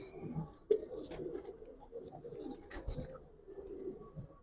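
Giribaz pigeons of the Palla line coo softly at close range, low throaty calls repeating under faint background noise.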